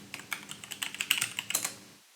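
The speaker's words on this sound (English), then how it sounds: "put in our passphrase for this key.pem file" A passphrase typed on a computer keyboard, roughly a dozen quick close key clicks in an uneven rhythm that stop after about two seconds.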